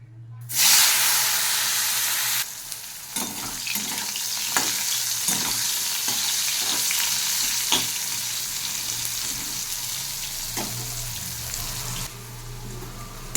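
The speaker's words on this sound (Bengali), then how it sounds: "উচ্ছে ভাজাটা বসিয়ে দিচ্ছি।" Bitter gourd fries in a pan of oil with a loud, continuous hiss and sizzle, punctuated by repeated light scraping and stirring clicks.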